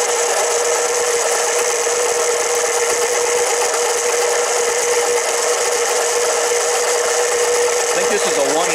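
A Harbor Freight 7x10 mini lathe turning a 304 stainless steel bolt of roughly 7/8 to 1 inch, giving a steady, close, continuous high grinding hiss of the cut that holds unbroken throughout with no talk.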